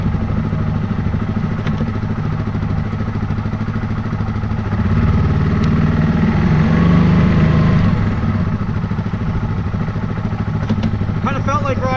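Yamaha Grizzly ATV engine running while being ridden, a loud steady mid-pitched drone with a brief swell in revs, close by, with faint clatter and wind over it.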